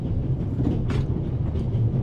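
A train rolls steadily along the rails, a continuous low rumble with faint rhythmic clatter heard from inside the carriage, with no voices.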